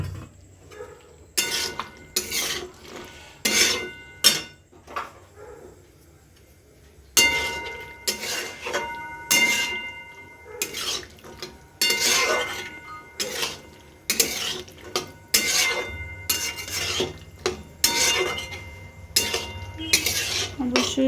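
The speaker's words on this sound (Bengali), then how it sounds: "এবার আমি এখানে সেদ্ধ করে রাখা কলাই আর আলুটা দিয়ে দিলাম।" Boiled peas and potatoes go into a spiced matar kalai in a pot and are stirred, and a metal spoon clinks and scrapes against the pot in repeated close strokes, with quiet gaps between them.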